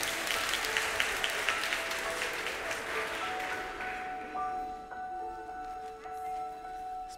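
Audience applause greets a performer at a church stage show, a dense wash of clapping that fills the opening seconds, then thins and fades while a sustained musical tone and a brief spoken word continue underneath.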